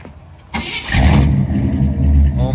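A 1965 Ford F100 pickup with mufflers cranks and fires up, then its engine roars loudly into a strong rev and stays at a heavy rumble, close by and without talk.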